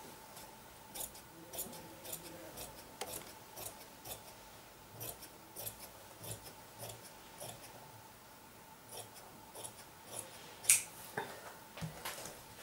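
Scissors snip through fabric while cutting strips for a safari collar jacket: a long run of quiet, close, rhythmic cuts with a few sharper clicks near the end, and no voices.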